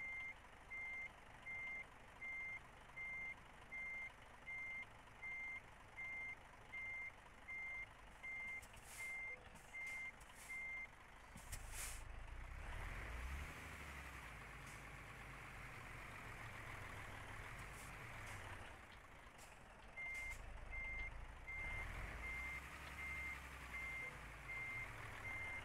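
A truck in Euro Truck Simulator 2 reverses with a steady, evenly spaced electronic beep over a low idling engine, the beeping stopping midway as the engine swells, then resuming near the end.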